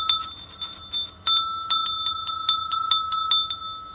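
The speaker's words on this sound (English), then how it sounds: "Got another bell, Donna. Listen to the tone of this baby though." A small metal bicycle bell rung repeatedly in quick, bright dings, close and loud, with a sustained ringing tone between strikes.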